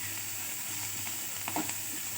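Vegetables dry-roasting in a pan for a traditional festival meal, giving a steady low sizzle with a few soft scraping stirs near the end, close and fairly quiet, with no voices.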